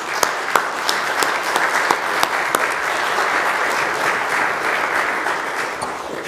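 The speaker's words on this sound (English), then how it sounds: "Let's give them a round of applause." A church congregation at a Sunday worship service applauding the pastor search committee, dense sustained clapping at a steady level, with sharper individual claps popping out near the start and no talking.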